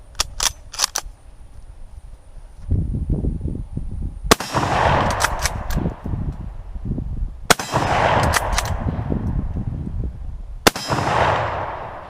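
M44 rifle fired repeatedly outdoors, each loud sharp crack followed by a long rolling echo, three main shots spaced a few seconds apart after some earlier clanking handling noises and a few smaller snaps.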